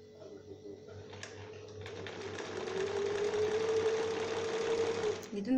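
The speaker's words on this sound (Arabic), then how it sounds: "إذن هنا راني نخيط لا دوبلور" A sewing machine runs steadily while stitching the lining of a dress, its needle buzz rising slightly in pitch and loudness before stopping, with a faint voice at times.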